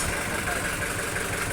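An Isuzu 4BA1 engine in an 8-seater private jeepney runs steadily, a continuous close diesel rumble held at an even level throughout.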